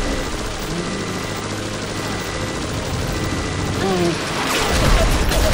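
A flashbang detonates in BioShock Remastered amid a loud, chaotic fight, a bright burst of noise swelling near the end over dense gunfire-like clatter and mechanical din.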